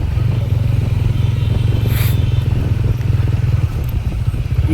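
A scooter engine runs steadily during a ride through festival traffic on the way to the Saleshwaram jatra in Telangana. A close, continuous low drone holds for about four seconds before easing off.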